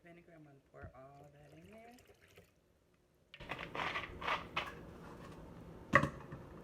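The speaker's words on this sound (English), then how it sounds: "this is about a 1/4 cup of apple cider vinegar." Apple cider vinegar poured into a bowl while making a vinegar-based recipe, giving a steady liquid splash after a person talks briefly, then a small clink near the end.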